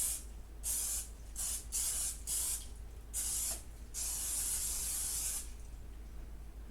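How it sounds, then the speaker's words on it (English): Nonstick cooking spray hisses onto baking pans in several short bursts, then a longer sustained spray, close by in a quiet room. "A little nonstick spray."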